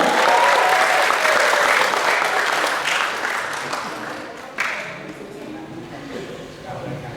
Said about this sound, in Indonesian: berikan tepuk tangan yang paling meriah untuk Bapak Jerry Aurum